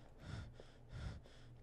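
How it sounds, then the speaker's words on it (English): Heavy, ragged breathing from a character in the first-person survival horror game Vanish, two loud gasping breaths close to the ear with a softer sigh between them, with no talk. "Stop breathing so hard, it's terrifying."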